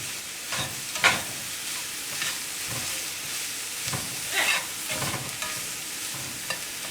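Hamburger meat mixture for sloppy joes being stirred in a frying pan: a continuous soft sizzle with intermittent scraping strokes, close up and moderately quiet, no voices.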